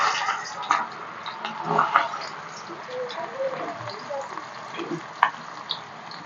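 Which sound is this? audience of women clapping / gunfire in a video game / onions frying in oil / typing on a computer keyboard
onions frying in oil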